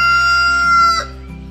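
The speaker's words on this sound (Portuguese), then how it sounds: "Deixa o galo cantar, né?" A rooster crows loudly and close by in a rural home yard where macaws are nearby. The long crow tails off about a second in, leaving quieter bird sounds behind it.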